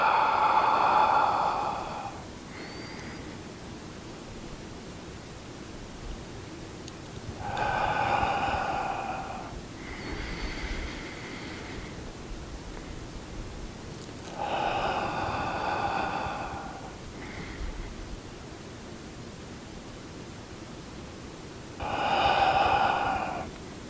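Slow, audible breaths in and out during a seated tai chi flow recur in long, airy swells every few seconds over a soft steady hiss, with no talking.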